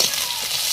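Onions and spice paste fry in a hot pan with a steady, close sizzle that hisses evenly throughout, with no voices.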